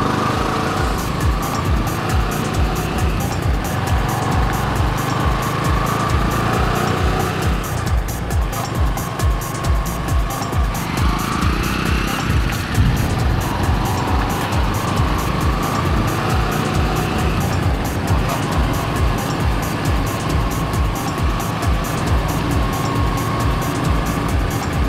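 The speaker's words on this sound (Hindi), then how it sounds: "फिलहाल अब इसमें मैं तेज़ रफ्तार में ले जाऊँगा और तेज़ रफ्तार में देखूँगा कि गाड़ी कैसा परफॉर्म करती है।" A Bajaj car's engine drones loud and steady at high speed, with constant road and wind roar throughout and no talking.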